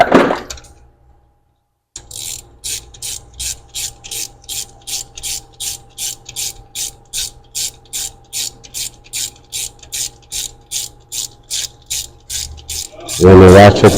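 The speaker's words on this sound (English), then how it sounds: "When the ratchet comes to a stop, no need to go crazy." A ratchet tightens spark plugs on a 2021 Mercedes GLB250 turbo, giving a steady run of close, crisp clicks in even rhythm for about eleven seconds, then a louder burst of handling noise at the end.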